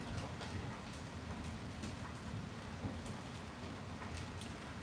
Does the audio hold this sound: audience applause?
no